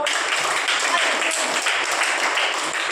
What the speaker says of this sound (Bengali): জোরে একটা হাততালি দাও।